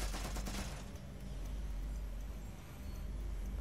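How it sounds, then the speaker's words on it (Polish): Gunfire in Watch Dogs Legion: a muffled burst of shots early on, then a steady rumbling game background, fairly faint and distant. "A gdzie jest to, co do mnie strzela?"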